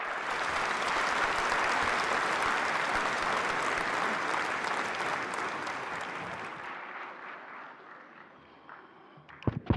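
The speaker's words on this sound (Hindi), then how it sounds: "माननीय उपराष्ट्रपति महोदय का जोरदार तालियों के साथ स्वागत करें।" A ceremony audience breaks into loud, sustained applause welcoming the Vice President at a national handicraft awards event, the clapping swelling early then thinning out and fading over about ten seconds, with a few scattered claps and knocks at the end.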